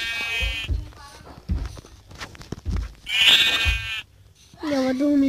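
Sheep in a video game bleat in a few short wavering calls, loud and close, separated by gaps with thumps and other game sounds.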